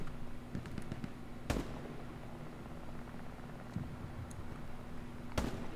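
Muffled explosions from a strafing run in the WW2 shooter Hell Let Loose boom at a distance over a constant hiss of battlefield noise, with two sharper blasts standing out.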